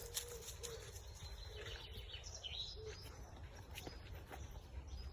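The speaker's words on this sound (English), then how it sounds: "That's a bird." A bird calls outdoors, with an owl-like hooting faintly heard over a steady low background rumble, no speech in the moment.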